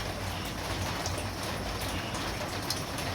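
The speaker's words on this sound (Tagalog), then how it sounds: "Ulan." Steady rain falling at night, a continuous broadband hiss with soft scattered drop ticks, moderately quiet and unbroken throughout, with no voices.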